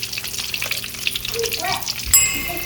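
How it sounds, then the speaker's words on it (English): Pieces of spiny dogfish shark crackle and sizzle frying in a hot pan with popping spatters, followed by a sharp metallic clink near the end. "Sizzling now."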